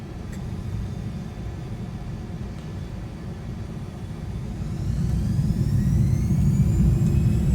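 Airbus A340 jet engines spool up for takeoff in Microsoft Flight Simulator, a steady deep roar that swells louder partway through with a rising whine on top and no talking.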